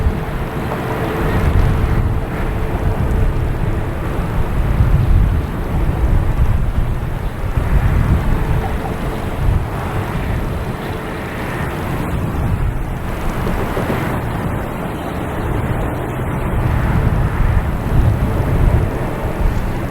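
A JetBlue Airbus A321 arriving from Cancun on final approach at Boston Logan Airport, a steady broadband jet roar with wind rumble that holds fairly loud and constant throughout, swelling slightly near the end.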